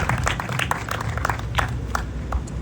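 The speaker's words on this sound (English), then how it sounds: "So give them another round of applause." An audience claps at a meet and greet in White Springs, a dense, steady patter of many hands that carries on evenly throughout with no voices on top.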